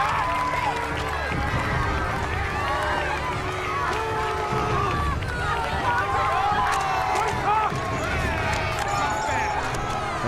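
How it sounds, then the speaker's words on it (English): A crowd in a Game of Thrones episode cheers for Greyjoy in a dense, continuous roar of voices and shouts, with people talking over it. "Look at them, cheering for Greyjoy."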